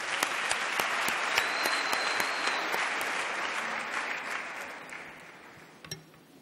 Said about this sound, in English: I think they need a round of applause